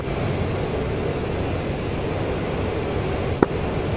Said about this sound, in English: For an airplane without a canopy, this is quiet.